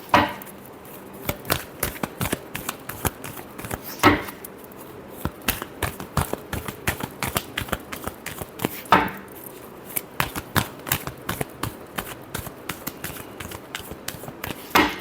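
Tarot cards are shuffled in a steady run of soft, quick riffling taps and flicks, close and fairly quiet, with no talking over them.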